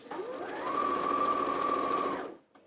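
A sewing machine stitches a long dart in fabric, one continuous close whirring run of a couple of seconds that rises in pitch as it speeds up, then stops abruptly, with no voices.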